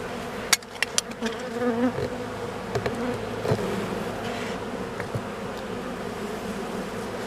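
Honeybees hum steadily inside an open hive during a frame inspection, a dense continuous buzz with a few sharp clicks and knocks of handled frames near the start.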